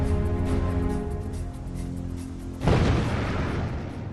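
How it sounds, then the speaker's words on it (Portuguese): Low rumbling hum suddenly broken by a heavy explosive boom as an explosion destroys the reactor 3 building at the Fukushima nuclear power plant, rolling into a sustained roar of debris and noise. "Uma explosão maior ainda destrói o prédio que abriga o reator número 3"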